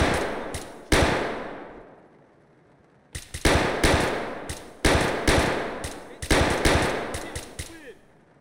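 Suppressed SKS rifle fire in Escape from Tarkov, coming as several loud, sharp shots and quick bursts with short echoing tails, spaced across the clip with quiet gaps between groups.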